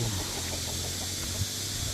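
Chickens cluck on a small Korean animal farm that also keeps turkeys, with soft calls over a constant, noisy outdoor background.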